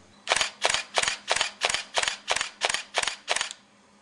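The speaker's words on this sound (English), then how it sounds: "Continuous shooting for JPEGs remains 3 frames per second, but you can now keep shooting until you run out of memory on your card." Canon EOS 1000D shutter firing in continuous shooting, about ten crisp mechanical clacks at a steady three-per-second rhythm, close and clear with no voices.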